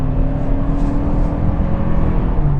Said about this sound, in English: On a back road, let's give it some power.